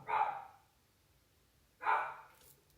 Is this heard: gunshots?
no